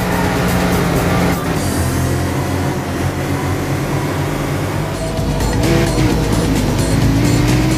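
A Mercedes E-Class races through a Japan course in the driving game World Racing, its engine droning loudly and continuously with shifting pitch as it accelerates, no voices heard.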